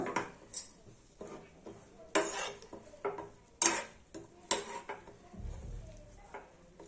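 Sesame and jaggery mixture for til ladoo being stirred in a pan over the stove, producing irregular scraping and clinking strokes of a spoon against metal, fairly close and moderately loud, with no talking.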